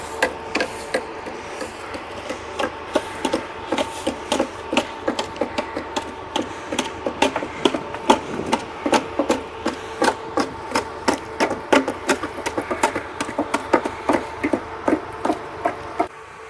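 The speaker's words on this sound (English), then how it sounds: "The clunking sound is the crew constantly chipping the ice off the deck." A ship's crew chips ice off the deck in icy seas among icebergs, producing rapid repeated metallic clunks and knocks in a steady rhythm, close and fairly loud over a low engine rumble.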